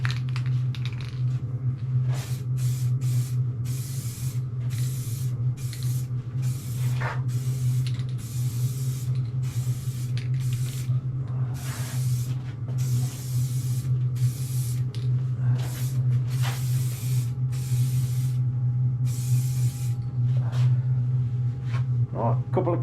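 Black trade aerosol spray paint hisses in repeated bursts of a few seconds each, separated by short pauses, close and steady over a constant low background hum.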